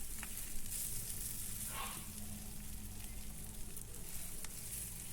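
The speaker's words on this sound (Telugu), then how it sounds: "ఎర్రగా అయ్యే వరకు ఉల్లిపాయని చక్కగా వేపుకోవాలి." Onions fry in oil for Andhra country chicken fry (natukodi vepudu), a soft continuous sizzle with a faint stir or two, quiet and close, no talk.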